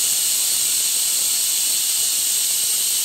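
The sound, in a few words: pressure cooker whistling, cooking mutton gravy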